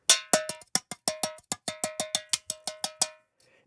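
A drum fitted with a mesh practice head is struck in a steady run of about twenty quick, even hits. Each hit is a short, dry, close tap with a light ring, and a faint tap follows at the end. No one speaks.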